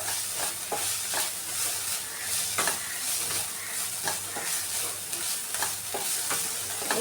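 Methi bhaji sautés in oil in a pan once its water has cooked off, with a steady close sizzle and periodic scrapes of a spatula stirring.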